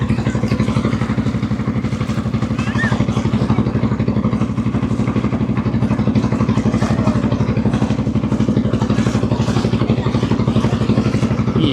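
A motor boat travels on the Sandhya river toward Swarupkathi, its engine chugging in a loud, steady, rapid rhythm with clattering throughout.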